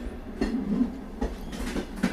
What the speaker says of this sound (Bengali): ট্রেন ছাড়ার মুহূর্তে